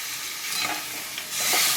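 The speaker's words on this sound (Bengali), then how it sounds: "আমি মিক্সির জারে ধুয়ে জল দিয়ে দিলাম" Water from a rinsed mixer jar is poured into a pan of oil-fried potatoes for a paneer, potato and pea curry, setting off a bright, noisy sizzle that rises sharply toward the end.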